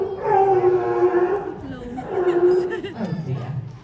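A sea lion in a live sea lion theatre show gives a loud, drawn-out, harmonic bark-moan, pausing briefly before a second long call that trails into rougher grunting.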